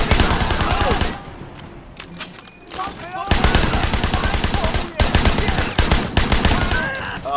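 A submachine gun fires in rapid, loud bursts in the open-world action video game Sleeping Dogs, dense rattling volleys broken by a short lull, while a person talks over the shooting.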